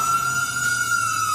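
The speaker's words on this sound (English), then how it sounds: "Sound the sirens, Nino, Nino." A fire engine siren sounds a single sustained, loud steady wail, close and unbroken throughout, with a brief burst of other noise right at the end.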